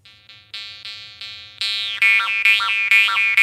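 A Mohan tailless jaw harp twangs in a series of plucked notes, a buzzing drone with wah-like vowel shifts growing louder toward the end, close and alone.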